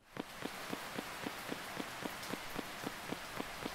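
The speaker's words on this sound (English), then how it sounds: "I like to walk in the rain." Rain falls steadily in the horror video game The Rainman, a dense loud hiss with regular soft thumping footsteps underneath.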